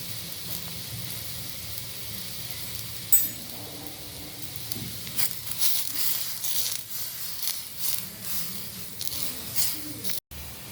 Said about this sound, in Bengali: পানি খুব ভালো করে ফুটে উঠেছে।